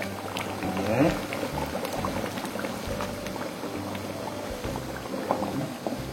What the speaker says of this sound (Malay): kita terus masukkan santan pekat kita